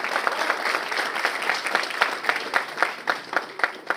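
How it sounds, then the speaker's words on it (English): A crowd at a university convocation ceremony applauds graduating students, dense sustained clapping with distinct sharp claps standing out, loud and continuous throughout. "Yes, big round of applause."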